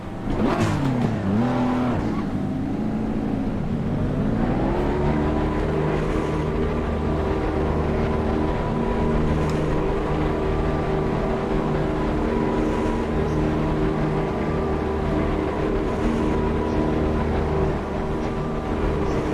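A BMW race car engine in Assetto Corsa Competizione revs up through a couple of shifts, then settles into a loud, steady high-pitched drone held at constant speed.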